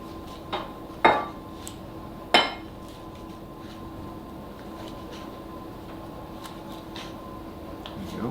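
A knife cuts through syrup-soaked baklava in a pan, making a few sharp clinks and taps against the metal early on, followed by a steady low kitchen hum.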